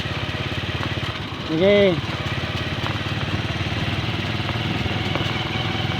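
A TMX 125 motorcycle with a sidecar runs steadily nearby, its engine putting out a constant buzzing drone while a child rides it, and a voice briefly speaks over the engine.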